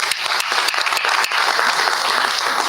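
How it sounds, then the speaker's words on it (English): Audience applause at a university board of supervisors meeting, a steady dense wash of clapping that holds for a few seconds with no voices over it. "So let's give them a round of applause."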